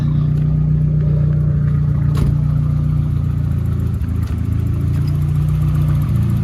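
A Nissan 240SX with a turbocharged KA24E-T engine idles in a steady, loud, low rumble with a constant hum and a few faint ticks, and no voices.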